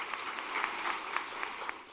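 A museum audience at a foundation annual meeting gives a brief round of applause for the arts, soft and somewhat distant, with a few sharper claps standing out.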